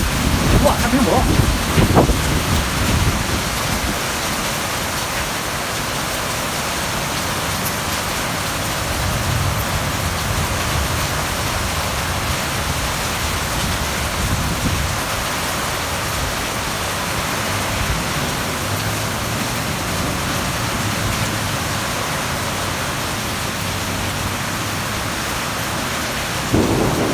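A heavy rainstorm with wind and thunder: dense, steady roaring rain with gusts and deep rumbles, loud and constant throughout, with stronger bursts at the very start and end.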